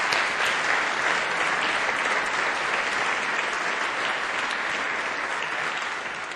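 Applause greets the college finalists at the opening of a youth quiz tournament final, a dense, sustained crowd clap that stays strong for several seconds and eases off slightly at the end.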